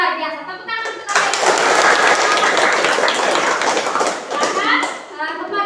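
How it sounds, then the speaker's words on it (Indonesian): A group of children breaks into dense, loud applause that swells quickly, holds steady for several seconds, then tapers off, with young voices mixed in. "Tepuk tangan untuk kalian."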